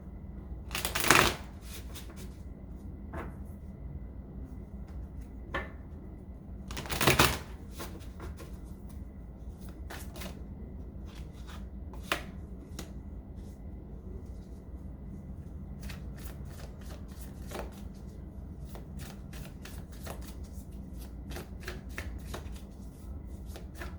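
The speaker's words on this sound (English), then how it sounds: "let's go ahead and pull a couple of cards for Divine Feminine" Tarot cards being shuffled and drawn in a quiet room, with two bursts of riffle shuffling and many soft, scattered card snaps and slides between them.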